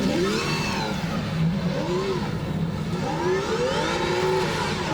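Drift car engine revving hard on a qualifying lap at Hampton Downs during a D1NZ drifting round: loud, continuous high-pitched wail rising and falling through gear changes, with tyre and crowd noise underneath.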